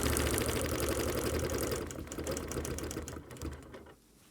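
A sewing machine stitches a quilted clam-shell-pattern spring wall hanging, a fast rhythmic mechanical whir that runs steadily, eases a little, then stops near the end.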